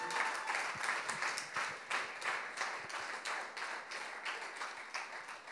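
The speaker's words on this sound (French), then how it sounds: "Est-ce qu'on peut applaudir tous les enfants qui sont avec nous?" A church congregation applauds the children among them, a brisk run of many hands clapping with some distinct individual claps, fairly quiet and steady throughout.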